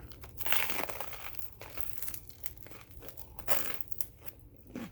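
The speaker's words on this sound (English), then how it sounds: "hear the crunch." Warm buttered toast or similar crunchy food is bitten and chewed close up, giving repeated crisp crunching and crinkling bursts with no talk.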